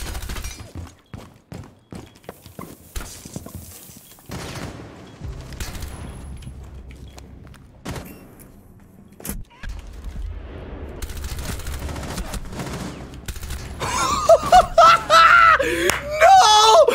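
Bursts of gunfire in the tactical shooter Rainbow Six Siege, rapid sharp shots scattered through the first seconds, then steady game ambience and a swelling, shrill burst of sound near the end.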